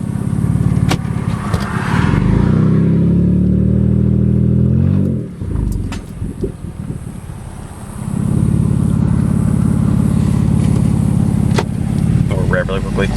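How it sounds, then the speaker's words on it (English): A 2012 Jeep Wrangler JKU with the 3.6 V6 running cats only and no exhaust roars loudly up close, revving hard, dropping off in a downshift with crackles, then climbing again into a deep, buzzy drone. "Do a downshift. And it backfires off."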